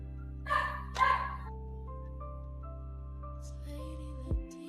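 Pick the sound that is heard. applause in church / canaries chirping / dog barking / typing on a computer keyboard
dog barking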